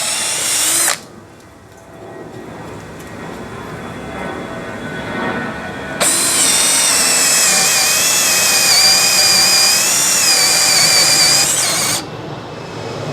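A DCA ADJZ2035i cordless impact drill with a 10 mm auger bit spins briefly, then quiet background follows before it starts again and runs loud and steady for several seconds under load before stopping.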